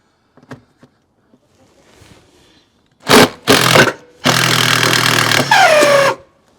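A power drill spinning a nut off a bolt under a vardo on a trailer: a few faint clicks, then loud, close whirring bursts and a sustained whine that drops in pitch near the end.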